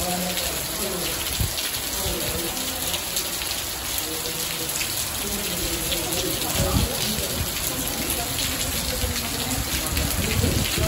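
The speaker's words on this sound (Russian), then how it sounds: "Ливнище страшный начался." Heavy rain pours down steadily in a border town between Poland and Czechia, a loud continuous wash of drops hitting hard surfaces with splashing and gushing water throughout.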